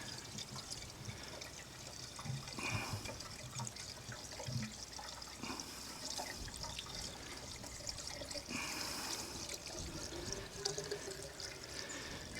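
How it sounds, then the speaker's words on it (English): Water from a primed pump running steadily out of a tap, a continuous trickling, splashing flow heard close up and fairly quiet for the whole stretch, with no talking. "It's coming out of my tap here."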